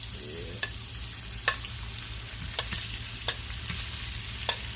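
Sausages sizzle and fry steadily in a pan for stir-fried sausage with peppers and onions, a constant crackling hiss broken by several sharp spoon scrapes and clinks against the pan.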